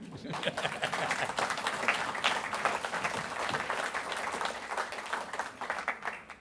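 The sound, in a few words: audience applause at a book launch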